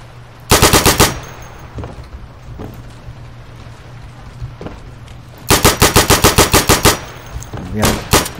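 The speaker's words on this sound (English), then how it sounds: "Machine gun!" Video game machine gun fire in the WWII shooter Day of Infamy comes in two loud, close bursts of rapid shots, with a few scattered single shots and quieter noise between them.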